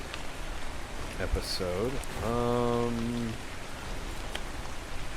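Rain falls in the video game Ark Ascended, Scorched Earth map, as a steady hiss throughout, while a voice speaks briefly in the middle.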